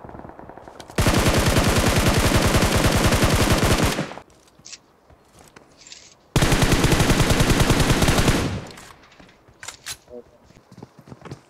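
Automatic gunfire in the mobile shooter BGMI, two long sustained bursts of rapid loud shots with sparse clicks and short pops in between.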